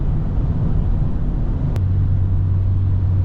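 2021 BMW M340i cruising on a freshly laid smooth tarmac road, a steady low engine and tyre drone from inside the cabin, constant and loud, with a faint click partway through, no voices.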